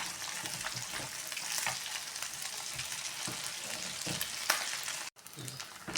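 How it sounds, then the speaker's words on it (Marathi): Crisp snacks made from leftover cooked rice fry in hot oil, a steady close crackling sizzle with bubbling pops throughout and a brief clink of a utensil near the end, no voices. "तर आवाजावरूनच कळत असेल तुम्हाला किती छान कुरकुरीत हे तळलेले आहेत."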